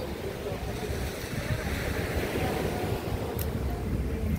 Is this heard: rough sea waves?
yes